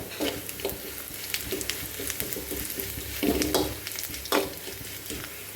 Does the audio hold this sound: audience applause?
no